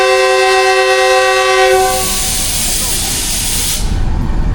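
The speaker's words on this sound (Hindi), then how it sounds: "First departure whistle." Jaffar Express departing toward Quetta, led by locomotive 4563, sounds a loud sustained departure whistle of stacked steady tones for nearly two seconds, then gives way to broad hissing rumble of the train and station.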